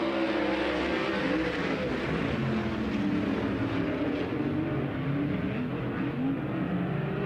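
Sprint cars at the High Limit Racing season opener at Las Vegas Motor Speedway surge away together on a restart, a dense, loud, unbroken roar of many engines at full throttle with no talk.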